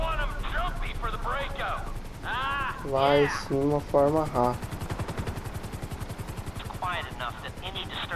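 A helicopter in the video game GTA 5 on PS4, its rotor beating in a steady rapid pulse throughout, under someone talking and higher game sounds.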